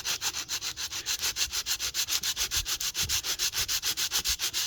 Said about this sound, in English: I'm just going to sit it on the flat surface, and I'm just going to sand it like this.